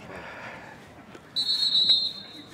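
A referee's whistle blows once at an amateur football match between Royston Town reserves and AFC Welwyn, a steady shrill tone lasting under a second over outdoor crowd and wind noise.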